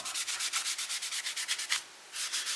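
Sandpaper of 80 grit scrubs a seven-string Les Paul-style guitar body in quick, steady back-and-forth strokes, close and fairly loud, with a brief pause before the rubbing resumes.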